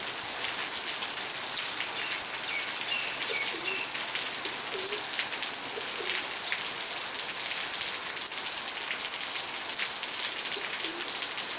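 Steady rain falls on Koh Kradang island, a dense, even patter close around, while doves coo softly now and then beneath it.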